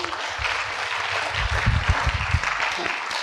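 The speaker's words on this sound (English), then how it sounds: "some of us will give him a round of applause" Audience applause at a public lecture on liberty, a steady dense patter of many hands clapping with low rumble and some murmured voices mixed in.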